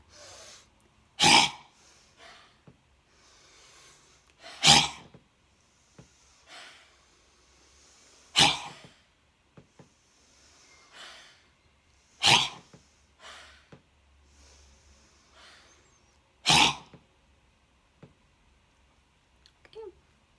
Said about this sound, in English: let's do dog breathing 5 times